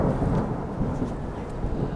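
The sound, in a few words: thunder during a lightning storm with rain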